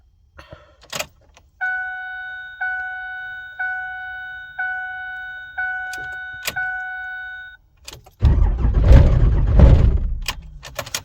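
A Cummins 5.9 diesel engine cranks on a cold-weather start: a series of evenly spaced electronic warning chimes comes first, then a short loud burst of churning engine noise near the end.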